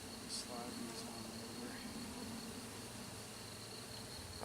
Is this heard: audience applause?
no